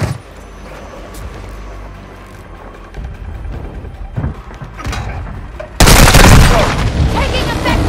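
Gunfire and explosions from Call of Duty: Modern Warfare 2 boom under game voice chatter, with a sudden loud, dense burst of blasts near the end.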